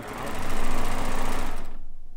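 A sewing machine runs steadily, stitching a quilt border made from Kaffe Fassett layer cake fabric, its rapid mechanical whir loud and continuous before cutting off abruptly near the end.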